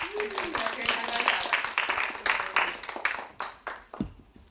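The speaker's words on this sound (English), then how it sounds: "let's have an applause for Scott" An audience applauds a student about to present his artwork at a reading event, with brisk, uneven claps from a modest group that thin out and fade to a few scattered hands.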